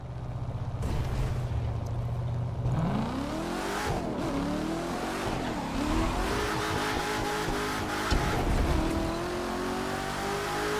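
Classic American muscle car engines, among them a Corvette, roar and rev in The Crew 2 racing game, with deep throaty rumbles rising in pitch through repeated accelerations, loud and close with brief tire squeals and no talk.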